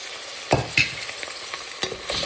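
Tomatoes go into a pan of frying ginger and garlic. A soft continuous sizzle is broken by a few sharp clatters of the ingredients and the spoon, close by and with no talk.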